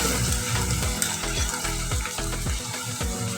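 Minced meat keema frying in a pan with onions, a continuous loud sizzle broken by regular scraping stirs of the spatula, close and without voices.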